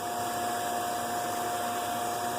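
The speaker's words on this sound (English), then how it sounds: "reactivate the blower to inflate the 2 layers of greenhouse plastic" Blower fan inflating two layers of greenhouse plastic, a steady loud continuous rushing hum with a constant tone and no pauses.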